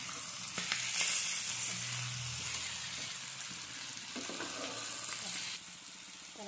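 Chicken with masala and salt sizzles and fries in a pan, with stirring scrapes and clatters over a steady hiss; a voice speaks briefly partway through.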